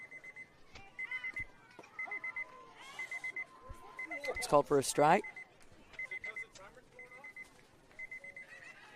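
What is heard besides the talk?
game timer beeping at a baseball game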